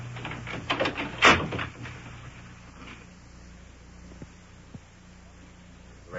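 A door shut in an old-time radio drama, heard as a single sharp bang close by over a low hum, followed by a few faint knocks and quiet room noise.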